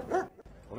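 A rescue sniffer dog with a fire department working at high altitude gives a short bark, then a softer whimpering yelp, fairly quiet and close.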